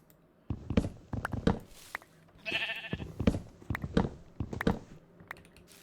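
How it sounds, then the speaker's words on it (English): A sheep bleats a few times in Minecraft Java Edition, alongside quick clicking keyboard taps and soft footstep sounds. "Oh, hi, little sheep."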